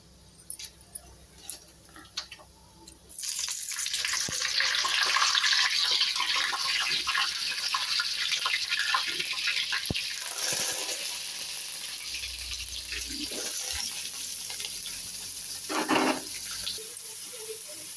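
Fennel seeds and onions frying in hot oil for egg curry, with curry leaves, cinnamon and bay leaf: after a few faint clicks, a sudden steady sizzle starts and continues, with occasional stirring clatter, close, no talk.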